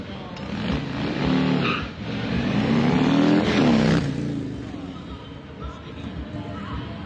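A police motorcycle at the H-D Hometown Rally revs and swells in engine note as it works through tight figure eights, rising and falling in loudness before easing off.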